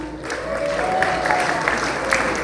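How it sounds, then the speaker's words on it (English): Brief clapping from a crowd at a city council campaign launch, a steady wash of hands running under a voice that speaks over it. "A round of applause."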